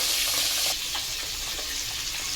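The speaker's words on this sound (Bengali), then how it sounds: "মাছটা ভাজা হচ্ছে।" Fish heads fry in hot oil in a karahi, a dense, steady sizzle that softens slightly partway through, with no voices.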